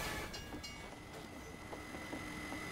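A train passing on the Railbridge map of a team shooter game, a faint continuous rumble with soft rail clatter and a thin high whine, without talk.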